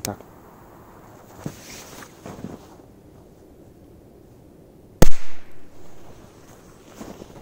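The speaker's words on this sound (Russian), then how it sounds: "это немного помощнее Корсар, чем предыдущий. В принципе, так, так же быстро взрывается." A Korsar 1 firecracker explodes in a single sharp, loud bang outdoors in frosty weather, followed by a brief rumbling echo; quieter handling and light wind noise come before the blast.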